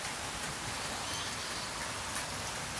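Steady rain falls evenly on surfaces outdoors, a dense constant hiss with soft patter throughout and no voices.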